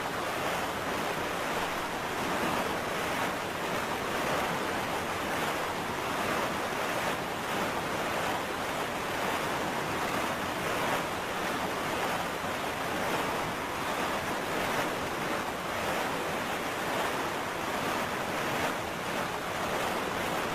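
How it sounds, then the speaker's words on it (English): Ocean surf and wind in The Legend of Zelda: Wind Waker, a continuous broad wash of waves with steady wind noise, even and unbroken for about twenty seconds with no talking. "Listen to the sounds of the ocean."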